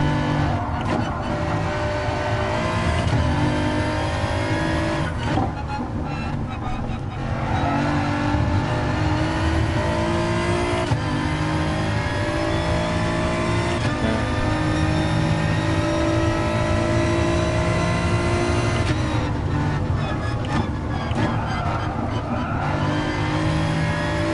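Racing BMW engine from GT Sport roaring steadily and loud throughout, with shifting revs and other race cars around it, no talk.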